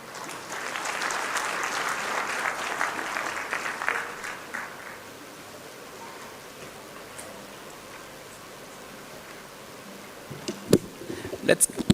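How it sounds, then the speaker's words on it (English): An audience claps for a governor at a gathering in Kenya, loud dense applause for the first few seconds that fades into quiet room noise, followed by a few scattered sharp claps near the end. "Let's clap once again for the governor as he resumes his seat"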